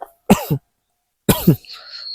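Two separate coughs, each a quick double burst, about a second apart, close and clear, with a soft hiss trailing afterward.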